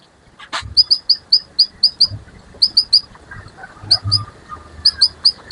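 A male canary in its cage, overexcited and in breeding condition, gives a rapid series of high, clear chirps in short repeated bursts, close and loud, with faint low rustling between calls.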